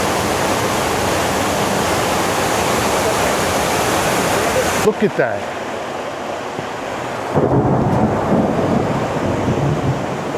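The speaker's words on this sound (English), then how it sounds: "I hear the waterfall." La Paz waterfall in the Costa Rica rainforest during rainy season, a loud continuous roar of falling water that drops away abruptly midway, then returns strongly; a person speaks briefly over it.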